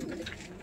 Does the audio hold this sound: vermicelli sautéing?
no